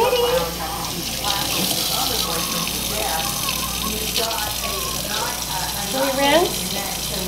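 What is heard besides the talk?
running water while bathing a dog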